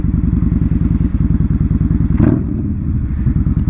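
A Yamaha Bolt motorcycle engine chugs loudly and close while riding, with a rapid, lumpy, pulsing idle-like beat and a brief clattering thump partway through, alone without speech.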